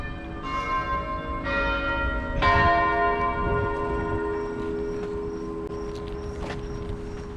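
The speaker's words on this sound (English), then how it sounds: "The bell tower." A church bell tower rings downtown, at St. John's church in Youngstown, Ohio: several resonant strikes at the start, each leaving a long humming decay, followed by softer tolling heard from a street-level distance.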